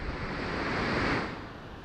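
Turbulent water of a deep mountain river roars in a continuous, loud wash heard up close, swelling slightly midway before easing, with no talking.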